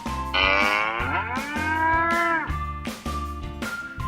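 A single long, drawn-out cow moo with a rising then falling tone, loud and close, standing alone with no talk over it.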